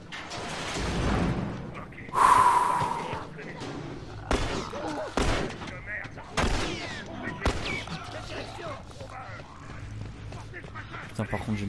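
Gunshots ring out in The Last of Us, several sharp cracks spaced irregularly across a tense stretch, with one louder burst early on, while a French-speaking player talks excitedly over them.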